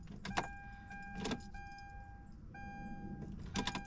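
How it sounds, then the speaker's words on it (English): Inside a Hyundai Azera with a newly replaced fuel pump, the ignition is keyed on and off several times, bringing repeated dashboard chimes in steady tones alongside soft key jangles and clicks, close and quiet. "got the key in the ignition, and we're going to prime it a few times."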